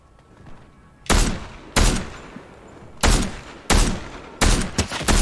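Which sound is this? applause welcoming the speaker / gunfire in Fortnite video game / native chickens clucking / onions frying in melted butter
gunfire in Fortnite video game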